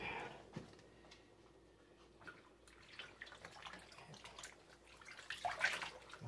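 Water runs faintly from a tap while a tie-dyed T-shirt is rinsed under it, with soft splashing and trickling that grows busier and louder toward the end.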